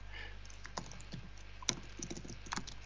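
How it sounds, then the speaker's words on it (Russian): Someone types on a computer keyboard, irregular soft clicks and keystrokes sounding close against a low steady hum. "а вот Алекс печатает"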